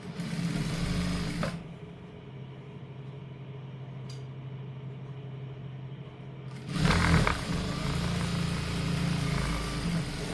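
A sewing machine stitching a folded half-inch fabric hem on salwar pants, a steady close whirring run that stops for several seconds, then starts up again louder.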